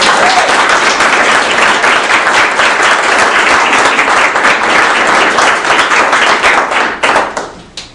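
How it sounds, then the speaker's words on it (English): Loud, dense round of applause from a meeting audience, steady clapping close to the listener that holds strong for about seven seconds before quickly tapering off. "Do we have a round of applause?"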